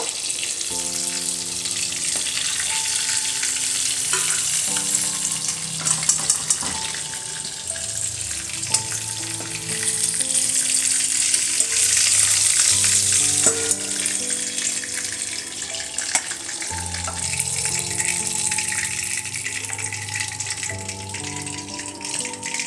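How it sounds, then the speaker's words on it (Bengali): Fish pieces frying in a pan of oil make a continuous, fairly loud sizzle with a few brief crackling spikes. It carries on without any voices. "এইভাবে সব মাছগুলো ভেজে তুলে নেব"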